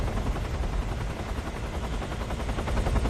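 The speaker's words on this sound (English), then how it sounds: "And where the hell is that helicopter?" Helicopter in the Metal Gear Solid 3 video game, a loud, steady, rapid rotor chop that runs without a break, with no talking over it.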